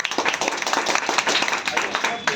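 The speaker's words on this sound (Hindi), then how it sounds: "इनके लिए पहले ताली बजाइए कस के" Audience clapping in a classroom-style coaching session, brisk and hearty with a distinct rhythmic beat throughout, voices faint beneath.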